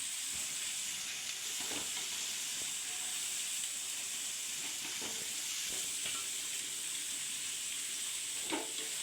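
Onions frying in oil with a pinch of salt as the base for a chicken curry, a continuous soft hiss and sizzle with occasional light stirring scrapes, fairly quiet and with no talking.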